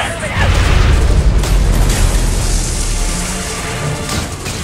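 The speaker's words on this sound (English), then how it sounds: "Enemy catalyst missile incoming. Missile launched." Missile explosion in a video game, a loud heavy boom with rumbling debris that lingers behind game voice alerts.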